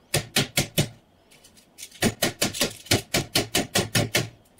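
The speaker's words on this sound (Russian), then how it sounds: "Накрываю пищевой пленкой и отбиваю." A rapid series of sharp, even thumps as a whole chicken is pounded flat under plastic wrap, a burst of four, a short pause, then about ten more in steady rhythm, close and fairly loud.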